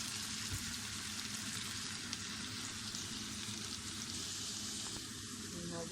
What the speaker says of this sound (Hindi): नाज़रीन, आलू हमारे फ्राई हो चुके हैं